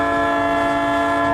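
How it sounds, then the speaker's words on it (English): A loud, sustained horn blast from a working museum train on a former Chicago and Northwestern line, steady and close, filling the moment with no voices. "The museum gives regularly scheduled train rides on a line that used to be used by the Chicago and Northwestern."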